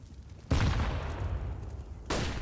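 Grenade blasts in a Counter-Strike match: two loud, broadband bursts, the first at half a second with a long rumbling tail and a second near the end, with no talk over them.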